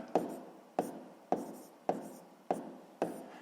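Pen or pencil writing numbers by hand on paper while a sixth-grade maths exercise is solved, heard as six evenly spaced scratchy strokes, each a sharp tap fading into a short scrape, close and quiet.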